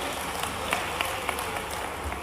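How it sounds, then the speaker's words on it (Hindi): An audience at a community gathering in Bhopal claps steadily to welcome a guest; the applause is dense, moderately distant and fairly quiet, with a few sharper claps poking through. "तालियां बजा के स्वागत करें भाई।"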